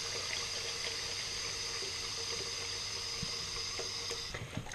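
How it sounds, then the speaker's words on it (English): Tap water runs steadily into a basin, filling it with rinse water for handspun yarn, a continuous close splashing hiss with no talk. "So for my rinse cycle, I'm going to use the same temperature water. Fill this up."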